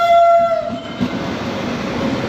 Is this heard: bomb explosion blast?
no